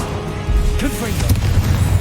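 The Confringo blasting spell in Hogwarts Legacy goes off as a booming explosion with a crackling burst, close and loud over game ambience, followed by a lighter secondary pop.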